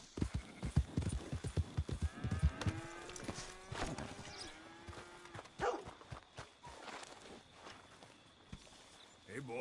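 A horse in Red Dead Redemption 2 sets off at a run. Quick, close hoof clip-clops come first, then a drawn-out whinny or snort and fainter hoofbeats, with a voice briefly urging it on.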